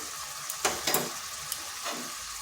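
Ground turmeric, cumin, coriander and Kashmiri chili powder fry in a pan with a steady soft sizzle, broken by a few scraping stirs, close and fairly quiet.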